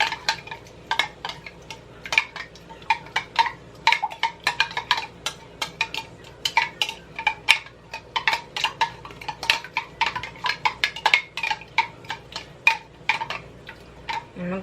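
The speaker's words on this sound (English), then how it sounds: "And you're going to stir it." A spoon stirs a dipping sauce with sesame seeds in a bowl, a steady series of light clinking taps against the dish, close and clear, with no talking.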